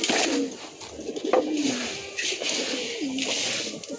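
Pet pigeons coo softly close by, giving several rounded, throaty calls with short pauses between them over a faint, quiet room background.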